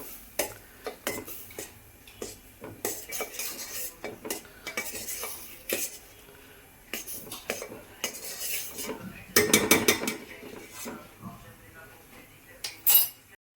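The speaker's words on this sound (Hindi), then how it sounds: "अब इसे मैं चला देती हूँ" A spoon stirs boiling cream in a metal pot while it is cooked down into ghee, giving repeated close scraping and clinking strokes with bursts of bubbling, and no talk over it.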